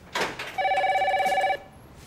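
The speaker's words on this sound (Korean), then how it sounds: "하지만 약속 당일 동현에게 급한 전화가 걸려옵니다." An electronic telephone rings in a scene from the 1997 Korean film Jeopsok, a single steady trilling ring of about one second after a brief clatter, loud and close, then it stops.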